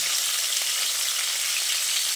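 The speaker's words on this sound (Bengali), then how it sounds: "মিডিয়াম করে মাছগুলোকে ভেজে নিতে হবে" Steady, bright sizzling of katla fish frying in hot oil, a close, even crackle without pauses.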